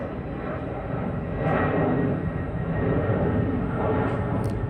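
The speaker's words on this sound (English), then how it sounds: "You hear that plane?" A steady, broad engine rumble of an airplane passing overhead, droning continuously and swelling slightly midway, with no talking.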